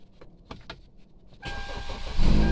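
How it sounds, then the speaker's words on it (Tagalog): A Hyundai Tucson engine, freshly fitted with a repaired starter armature and carbon brushes, cranks once and catches on the first try, then settles into a loud, close, steady idle after a few faint clicks. "Umandar siya. One click lang."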